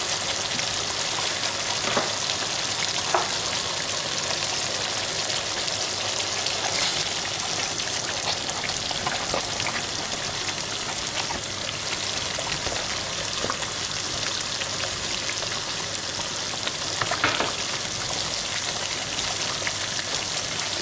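Chicken pieces frying in curry sauce in a pan, a constant dense sizzle and bubbling hiss that runs evenly throughout with no talking.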